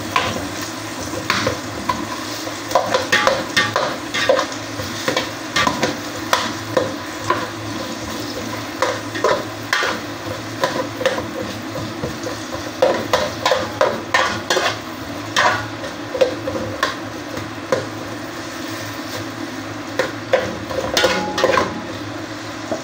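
Onions are stirred and sautéed in a pan while cooking chicken-rib sinigang, with a constant low sizzle under repeated scraping spoon strokes against the metal.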